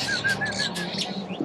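Birds in an aviary, including Java sparrows and Bali mynas, give repeated high whistled chirps and tweets, close and fairly loud, over a busy murmuring background.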